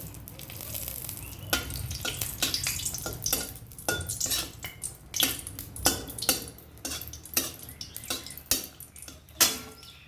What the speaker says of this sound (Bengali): ওই বেগুন ভাজার তেলে লঙ্কা ফোড়ন দিয়ে দেব